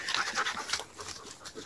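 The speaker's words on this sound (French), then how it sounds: "je me fais une petite balade dans la forêt avec mes deux copains canins, Kirtan, mon berger allemand, et Volt, mon beau husky." A German shepherd and a husky panting during a walk in an autumn forest, quick breathy rhythmic huffs close by with no talk.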